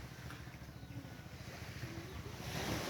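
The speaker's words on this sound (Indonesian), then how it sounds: "Kini kita tampilkan suasana pantai Pulau Panjang di tengah suasana pandemi." Waves on the beach at Pulau Panjang, West Sumatra, make a faint, steady wash mixed with wind noise. The surf swells a little louder toward the end, and no voices are heard.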